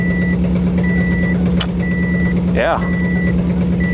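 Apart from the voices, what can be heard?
Subaru Impreza engine running at idle after revival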